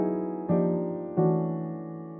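A sustained chord in second inversion, apparently on a piano, struck three times at a steady pace, each strike ringing and slowly decaying, moderately loud and alone.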